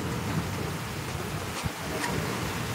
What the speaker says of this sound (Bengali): আরো জোরে বৃষ্টি চলে আসলো, সেই লেভেলে বৃষ্টি হচ্ছে এখন